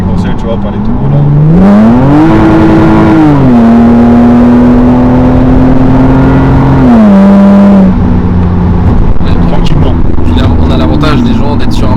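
A 2005 Lexus fitted with a 2JZ engine and automatic gearbox pulls hard from inside the cabin, engine note climbing, holding, then dropping at a gear change before rising again, loud and close, with a voice talking over it.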